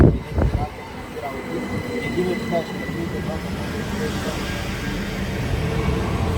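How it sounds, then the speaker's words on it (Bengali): A train rumbles into a station with low mechanical drone and faint squeals, a brief clunk at the start, growing slightly louder. "আমাদের ট্রেন চলে আসছে দেখেন"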